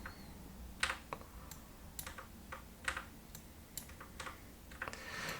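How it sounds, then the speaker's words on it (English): Computer keyboard keys, arrow keys among them, click in a sparse irregular run of about a dozen light taps, close and quiet, with no talking. "using the top and bottom arrow keys on the keyboard"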